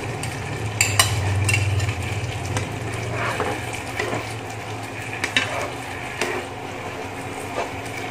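Sausage pieces and seasoned Korean-style rice cakes made from Vietnamese rice paper are stirred in a frying pan, a close scraping and shuffling with soft sizzle and occasional sharp utensil knocks.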